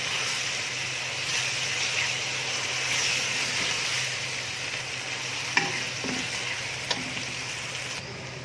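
Onions, chopped green chilies and tomatoes fry in a pan with a constant hissing sizzle, close up, while a spoon stirs them and knocks against the pan a couple of times.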